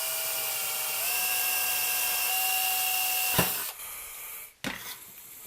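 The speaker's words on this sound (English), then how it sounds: "And let me drill these 2 holes." A power drill boring holes in a metal chassis for a small 5-watt tube audio amplifier: a steady high whine with a pitch step early on, then the motor cuts out and restarts briefly with a short burst.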